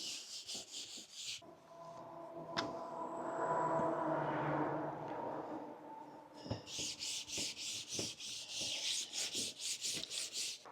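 A campervan surface being sanded by hand before gluing, with bursts of rhythmic rubbing strokes at the start and end and a quieter stretch of low scraping between, close and dry, no voices.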